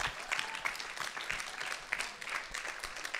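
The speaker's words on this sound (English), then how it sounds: "So everyone, round of applause" Campers and volunteers at a summer camp closing reflection give a round of applause, a busy patter of many hands clapping steadily, somewhat distant and fairly quiet.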